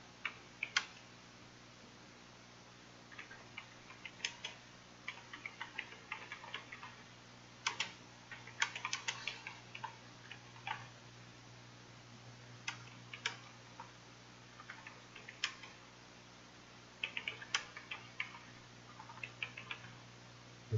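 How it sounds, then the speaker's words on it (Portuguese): Computer keyboard typing out a paragraph, close light clicky keystrokes in irregular bursts and flurries with short pauses between, faint and alone over a low steady hum. "eu vou digitar esse parágrafo inteiro, são 4 linhas"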